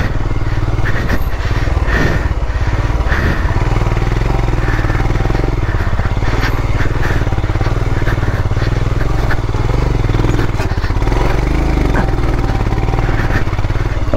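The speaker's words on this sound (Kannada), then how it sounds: "ಒಂದೇ ಗೇರಕ್ಕೆ ಒದ್ದಾಡ್ತೈತಲ್ಲಪ್ಪ ಗಾಡಿ." A motorcycle struggling in one gear on a rough road gives a loud, constant engine drone with clattering and uneven surges, close up and sustained throughout.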